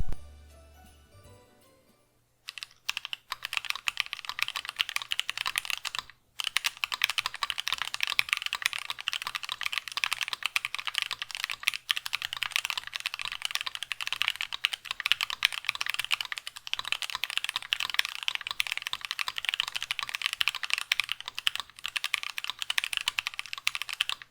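Steady, fast typing on a mechanical keyboard with unlubed Beeswax linear switches, smooth, even keystrokes, close up and continuous, with one brief pause early on.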